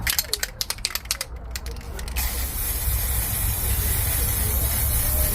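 Spray paint can releasing a steady, loud hiss of paint onto an object for decoration, starting after a few rattling clicks and holding as an even, close rush of spray to the end.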